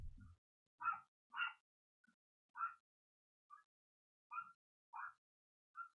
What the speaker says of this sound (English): Sorry, my dog's going crazy downstairs.